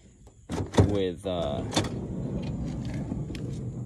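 Power sliding door on a 2011-2016 Honda Odyssey minivan running after a repair, heard up close as a mechanical motor whir with clunks and a latch sound, followed by a steady low hum.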